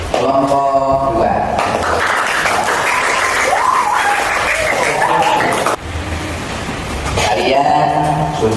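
Schoolchildren in a classroom clap for group 2, a sustained burst of noisy applause with excited voices and chatter mixed in, bracketed by a teacher's speech at the start and end.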